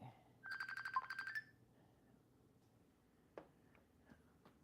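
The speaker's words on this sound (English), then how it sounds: "So now I done declined the call, and it's still ringing." A phone keeps ringing after a declined call, playing a short burst of bright, rapid repeated electronic tones, followed by quiet with a few faint ticks and clicks.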